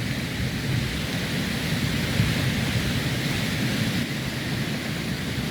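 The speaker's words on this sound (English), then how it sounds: "There's the river going down as I just pan round." A river rushing through a wintery mountain gorge toward a waterfall in Slovenia, a loud, steady broadband roar of flowing water with no voices.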